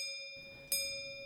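A clock bell chimes in a school radio play of A Christmas Carol, with faint, clear metallic strokes that ring on at a steady pitch and sharp onsets spaced roughly half a second apart.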